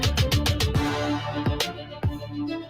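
A music track blending drill and trap beats with orchestral strings and bagpipes: punchy deep kicks, rapid hi-hat rolls and a sustained melodic drone, loud and dense with no talking.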